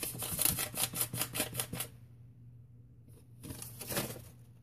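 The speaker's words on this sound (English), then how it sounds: "I'm going to try to erase a little bit," A scented eraser is rubbed back and forth in quick, even strokes, a soft close-up scratching rhythm that stops, falls quiet, then resumes with a few more strokes.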